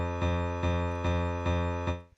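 Default initial tone of a Roland Zenology Pro synth, a buzzy sawtooth-like note repeated five times in an even rhythm, steady and moderately loud, ending with a quick fade; no voices.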